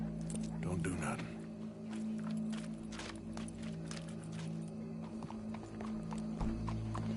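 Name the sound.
horse hooves clip-clopping in video game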